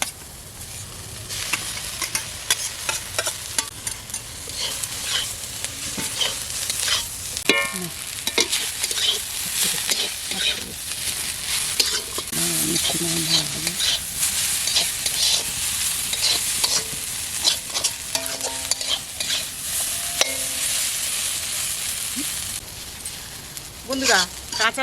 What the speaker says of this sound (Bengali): আর সবজি ভাজা গেছে নুডলসগুলো একটু দিয়ে দেবো।